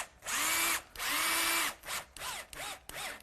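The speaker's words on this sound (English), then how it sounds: "the hinges go on this side, and screw them on" Power drill driving screws to fix hinges onto a double glazed sealed window unit: a loud close whirring burst, a second longer run, then several short pulsed bursts as each screw seats.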